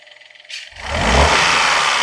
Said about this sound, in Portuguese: Uma aceleradinha aí, Max.